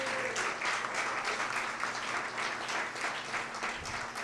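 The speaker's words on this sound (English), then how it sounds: "this company deserves a round of applause" Sustained audience applause at a chamber of commerce luncheon, honoring a new mall development company; dense, steady clapping from a crowd in a room, continuous and fairly loud throughout.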